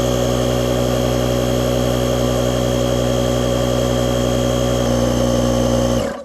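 Lokithor AW401 portable tire inflator compressor running at 20 psi on a 26 by 4.0 fat bike tire, a loud, steady droning mechanical buzz held close and constant before cutting off at the end.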